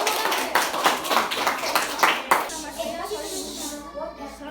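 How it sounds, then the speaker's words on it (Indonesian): Children in a morning class clap their hands in a quick series of sharp, close claps, then stop as speech and chatter take over. "tepuk tangan."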